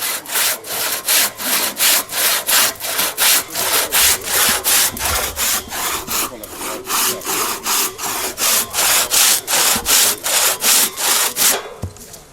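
Hand saw cutting through a log at an Estonian forest-day sawing contest, a fast, steady stroke rhythm of loud rasping pulls and pushes repeating about three times a second, close and continuous with no talk.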